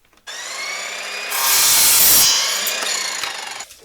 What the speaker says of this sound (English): let's have a go and cutting all the timber to size first